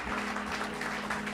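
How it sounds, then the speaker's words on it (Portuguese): Congregation applause during a church service, a dense, steady wash of clapping from many hands filling the room, with no talk over it. "Dá um aplauso a Jesus"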